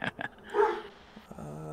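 A dog barks nearby with a couple of quick sharp yaps, then a brief whiny vocal sound, fairly faint and alone.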